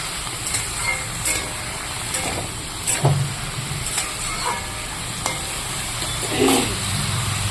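Chorchori being stirred in a kadai after salt and turmeric go in, with a low sizzle and irregular spoon scrapes and knocks against the metal, one sharper clank partway through, and no voices.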